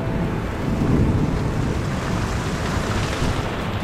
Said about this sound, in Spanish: Se viene un botecito ahí.